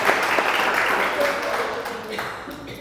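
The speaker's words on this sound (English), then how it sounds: "Big round of applause." Studio audience applauding the Sun Brothers artists Glenn Dean, Josh Elliott and Logan Maxwell Hagege at an artist discussion; loud, dense clapping fills the space and gradually tapers, with voices mixed in.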